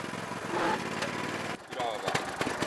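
A small Honda engine runs with a buzzing, rattling hum at close range, briefly dipping before resuming rough and uneven, while people talk over it.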